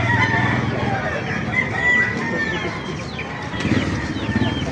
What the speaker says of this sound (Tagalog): Ang ganda ng manok oh.